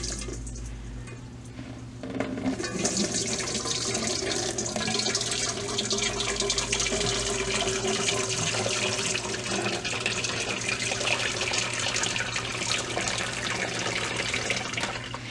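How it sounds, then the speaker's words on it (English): Homemade vegetable broth is poured slowly into a large colander set over a bowl, a steady close splashing and trickling flow that starts after a brief quieter moment and keeps running. "I like to drain this in a big colander to get all the big chunks out"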